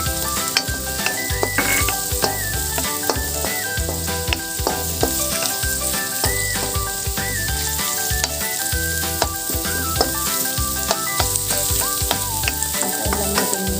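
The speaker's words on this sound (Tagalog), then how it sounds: "Maluto ang ating mga bawang, sibuyas at luya." Garlic, onion and ginger sauté in a hot pan with a loud, continuous sizzle, broken by small clinks and scrapes of stirring, over faint background music and with no talking.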